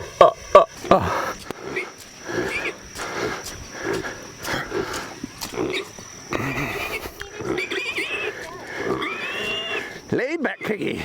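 Two pigs grunt and snort in short bursts, up close, while a person talks over them.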